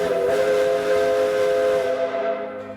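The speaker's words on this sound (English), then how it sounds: "hearing the echo of Henry Ford's steam engine" A steam engine whistle from Henry Ford's steam engine in Richmond Hill blows one loud, sustained, steady tone that fades slightly toward the end, with no voices.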